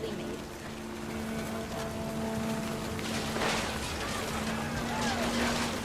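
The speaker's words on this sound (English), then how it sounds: "The rain came down in buckets then" Heavy rain pours steadily in What Remains of Edith Finch, a dense continuous hiss with a low hum running under it. A voice talks over the rain throughout.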